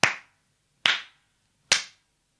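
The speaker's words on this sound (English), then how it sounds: "the eldest princess clapped her hands 3 times" Three sharp, evenly spaced hand claps, each a crisp close smack with a brief ring-off, separated by clean silence.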